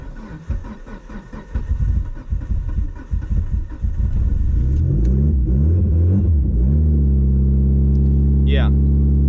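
A troubled Mitsubishi Evo engine is held up with the throttle. It surges in uneven, rough pulses, then settles into a louder, steadier hum that rises slightly, while a voice talks over the first part.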